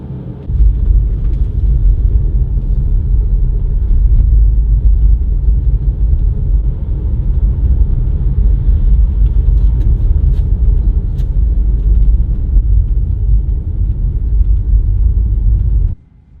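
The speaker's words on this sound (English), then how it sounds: "Autopilot never would have been able to allow this car to drive as adeptly as it is" A Tesla Model 3 driving on Autopilot along Topanga Canyon, heard as a steady loud low rumble of road and tyre noise inside the cabin, unbroken for about sixteen seconds before cutting off.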